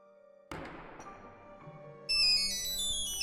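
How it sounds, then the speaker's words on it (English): A cell phone rings in the Nancy Drew game The Curse of Blackmoor Manor, a bright electronic melody of layered tones that starts after a sharp thud and continues loud and steady to the end. "There goes my cell phone."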